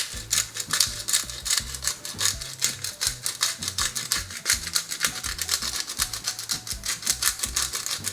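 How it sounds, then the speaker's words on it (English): Pepper mill grinding peppercorns over a salad, a close, steady run of rapid clicking, ratcheting cracks lasting several seconds with no talk. "just crack a little bit of pepper"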